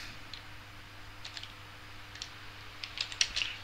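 Keystrokes on a computer keyboard entering a Linux netstat command: sparse, faint clicks that build into a quicker, louder burst of taps near the end over a steady low hum.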